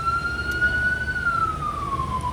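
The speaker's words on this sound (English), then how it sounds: "let's wait for that police car or ambulance to go by" A police car or ambulance siren passes by, a steady wailing tone that slowly drops in pitch as it moves away, over a constant background of traffic rumble.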